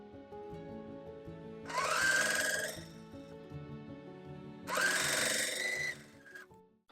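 A sewing machine stitches quilt pieces together in two bursts of a few seconds each, separated by a quieter pause with faint handling in between.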